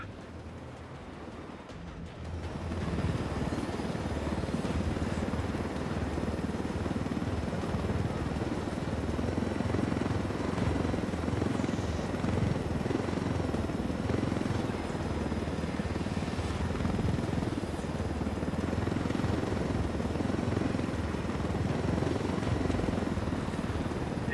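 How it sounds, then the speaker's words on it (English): A helicopter in the Ghost Recon Wildlands video game starts up and then flies with a loud, steady rotor thrum and engine whine that runs on continuously after a brief quieter opening. "I told Griffin I could figure out how to fly this thing. Qualify for planes. But not choppers"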